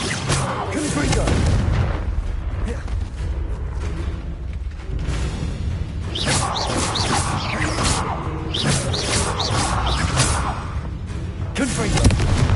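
Repeated Confringo fire spell blasts in Hogwarts Legacy burst out as loud explosive booms and crackling impacts. They recur in clusters across busy game combat noise, with some voice present.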